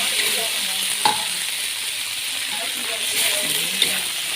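Continuous loud sizzling and frying from cucumber, onion, tamarind and tomato tossed together into a hot frying pan, with a couple of brief clinks from stirring.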